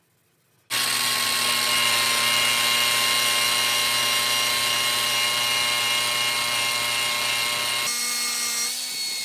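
A power tool buffs wax onto bare steel, starting abruptly into a loud, steady whining drone that holds evenly and then shifts slightly in pitch near the end.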